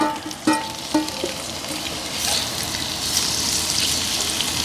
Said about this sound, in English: Our oil is hot. We're gonna go in here. We wanna make sure you have plenty of oil. We're using very lean protein. So we're gonna go in here with our venison.